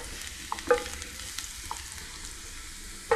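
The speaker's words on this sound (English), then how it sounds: "So the first thing is the oil and our garlic. Just slightly sauteed about 30-40 seconds to give it that garlic flavor." Garlic sautéing briefly in oil for a Pacific Island stewed pea dish, a faint low sizzle with a few light clicks and taps of stirring, no speech.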